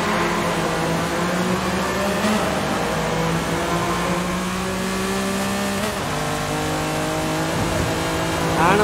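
A Lamborghini Countach LP5000 QV in Forza Horizon 5 revs from launch control and accelerates hard, its loud engine note climbing through steady harmonic sweeps with shifts, continuous and close with no talking.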